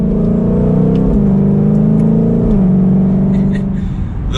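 A 2021 Ford Mustang Shelby GT500 engine revs loud and close during quick downshifts in normal mode, with steady mid-pitched engine drone that rises and dips in pitch as the gears drop.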